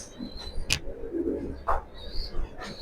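Sabji Maxi pigeon pairs with babies in a loft give a soft, murmuring coo in the middle of the clip, with sharp chirps and thin high whistles scattered around it and no speech.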